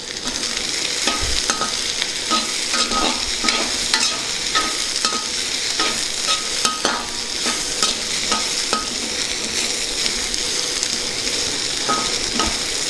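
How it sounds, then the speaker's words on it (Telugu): Spices tempering in hot oil for a traditional Telugu pudina cabbage curry, a steady close crackling sizzle with repeated sharp scrapes of a spoon stirring in the pan throughout, no voices. "తర్వాత ఈ పోపులు వేసుకుంటాం"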